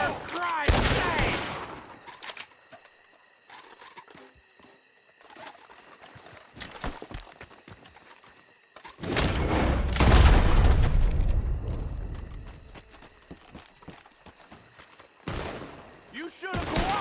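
Gunfire in the Red Dead Redemption 2 video game, with sharp shots in scattered bursts and a heavier volley mid-clip, some loud and close, others distant, mixed with game voices and faint birdsong.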